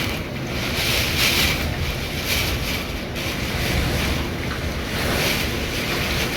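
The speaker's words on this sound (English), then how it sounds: "it is a stormy day here in Okinawa, Japan" Strong typhoon wind in Okinawa, Japan roars and buffets the microphone continuously, with surging waves rumbling underneath, loud and relentless.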